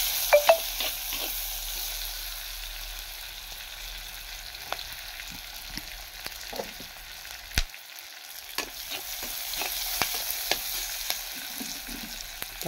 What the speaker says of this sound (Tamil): இதில் சீரகம் போட்டு வதக்கிக்கலாம்.